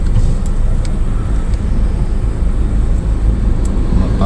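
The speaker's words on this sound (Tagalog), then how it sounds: "Grabe, sobrang traffic." Heavy road traffic around Santa Maria, Bulacan, heard from inside a car: a loud, continuous low engine and road rumble with no talk.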